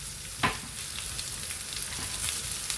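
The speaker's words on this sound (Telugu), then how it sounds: "తర్వాత ఉల్లిపాయలు వేసుకుందామండి" Onions frying in a pan for a Maharashtra-style chicken curry, a dense steady sizzle close up with one sharp stir or clatter early on and softer scrapes after, no talking.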